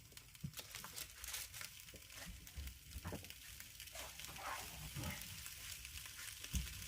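Eggs frying in a Trangia stove pan alongside sausages, a steady soft sizzle and crackle with occasional louder pops and scrapes, close by and without talk.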